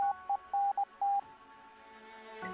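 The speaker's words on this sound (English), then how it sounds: "This time Morse code is playing again." Morse code beeps from a horror video game: a steady tone switches on and off in short dots and longer dashes, clear and fairly loud over a faint ambient hum, then trails into quiet.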